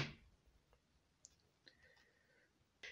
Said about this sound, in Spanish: La forma en que se quita el teclado es eh, presionando este botón y jalando hacia afuera la tableta.